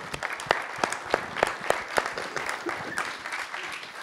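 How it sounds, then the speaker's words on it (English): Audience applause at a venture pitch event in Geneva, sparse and uneven with individual claps standing out over a faint murmur, moderately close. "So anyway, a big applause again."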